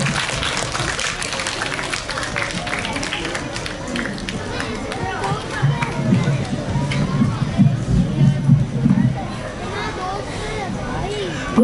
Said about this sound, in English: please give everyone a big round of applause